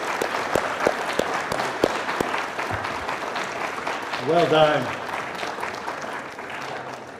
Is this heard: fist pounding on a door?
no